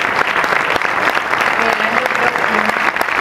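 Loud, dense applause from a crowd at a Tenerife cycling awards gala claps continuously, with a few voices faintly audible underneath.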